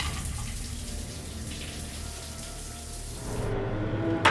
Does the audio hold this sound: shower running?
yes